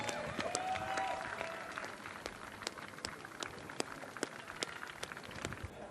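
Sparse, scattered clapping from a crowd at the outdoor Reclink Community Cup football match in Hobart, applauding volunteers; individual claps stand out, fairly distant and light, over a low background murmur.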